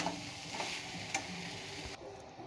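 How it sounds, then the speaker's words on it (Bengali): A spoon stirs fried potatoes into a ridge gourd and poppy seed paste with coconut and peanuts in a pan, giving soft scraping and light sizzling with a few sharp clicks, close and alone. "আলুটাও দিয়ে দেব। ভালো করে এটা মিশিয়ে নেব।"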